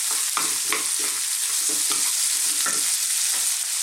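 Beef stir-frying in a pan, with steady loud sizzling and repeated scraping stir strokes about every half second, no voices.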